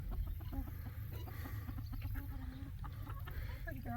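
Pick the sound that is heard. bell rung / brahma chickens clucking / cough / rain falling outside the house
brahma chickens clucking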